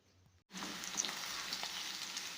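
Sliced mild green chillies frying in a pan for samosa filling, a steady sizzle starting abruptly after a quiet moment and continuing evenly.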